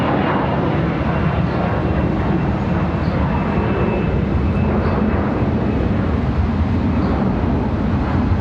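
An airliner in retro livery taxis or moves about at Charlotte Douglas International Airport. Its engines give a loud, steady broadband roar with no break and no voices.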